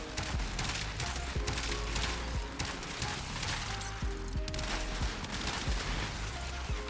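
Sepulcrum alternate fire in the video game Warframe, a rapid burst of sharp mechanical energy shots and impacts that fire in quick succession and stay loud from start to finish.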